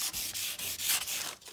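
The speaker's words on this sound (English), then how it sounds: "Use some steel wool." Steel wool rubbing varnish off the wooden-look quarter window trim of a 1948 Chevy Fleetmaster, a close, steady scratchy scrubbing in repeated back-and-forth strokes with brief pauses between passes.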